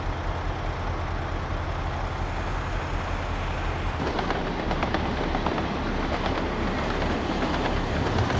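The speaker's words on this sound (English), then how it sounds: "Construction train." A construction train rolls along a railroad in a video game, a loud steady rumble of wheels and engine that grows rougher and more clattering partway through, with no talking.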